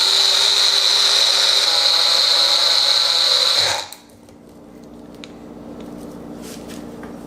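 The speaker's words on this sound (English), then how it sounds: "attach this milling part and start the process" A food processor fitted with a milling attachment grinds a cup of oats, its loud steady whirring motor running for about four seconds before cutting off abruptly into quiet room tone.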